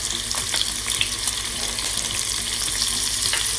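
Shrimp sizzling in a hot pan for Thai noodles, seasoned with salt and pepper, a loud, steady close frying hiss with faint stirring scrapes, no talk.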